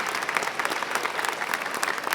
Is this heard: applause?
yes